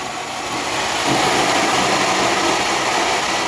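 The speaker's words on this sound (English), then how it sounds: "The motor currently doesn't have a lot of torque, so it takes it a while to uh, get up to speed." A homemade pulse motor with low torque spins up toward speed, giving a steady broadband whir and hiss that grows slightly louder after the first second and then holds even, with no talking.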